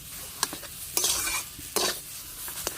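A spoon stirs and fries a sticky mixture of dal and elephant foot yam for dhoka in a pan. Scrapes come in bursts over a soft sizzle, close and fairly quiet, with no speech.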